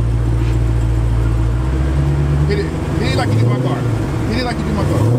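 Engine of a Dodge Challenger Widebody Hellcat Redeye, a loud low rumble that swells as it is revved, with voices talking over it.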